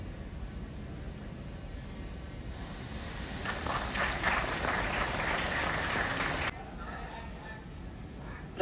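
An audience bursts into applause for a guest called onto the stage at an Indian trading awards event, a moderately loud wash of clapping lasting a few seconds and then cutting off, with a host speaking over the scene.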